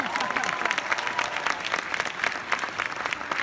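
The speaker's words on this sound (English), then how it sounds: "Round of applause for that." Convention audience at a Florida SuperCon celebrity panel applauding steadily, a dense even clapping of a large crowd that sustains for several seconds without fading.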